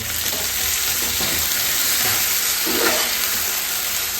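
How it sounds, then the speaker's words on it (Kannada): Tomatoes added to fried onions sizzle loudly in a pan, a dense, steady, close frying hiss with faint stirring underneath and no one talking. "ಎರಡನ್ನೂ ಚೆನ್ನಾಗಿ ಫ್ರೈ ಮಾಡಿಕೊಂಡು ಸ್ವಲ್ಪ ಕಂದು ಬಣ್ಣ ಬರೋವರೆಗೂ ಫ್ರೈ ಮಾಡಬೇಕು. ಟೊಮೊಟೊ ಹಾಕಿದ್ದಾರೆ ಫ್ರೈಗೆ."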